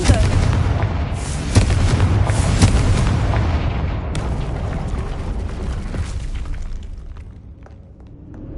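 Spell blasts from Hogwarts Legacy boom heavily, with a couple of sharp impacts early on, followed by a rumbling, decaying roar that fades over several seconds.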